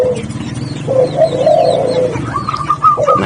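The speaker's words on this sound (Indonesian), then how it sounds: "Nah ini dia kalau melihat burung betina biasanya dia cenderung bekur ya." Turtle dove (burung puter) cooing close up, a loud run of rolling, throaty coos in a repeating rhythm, with softer bird sounds in the background.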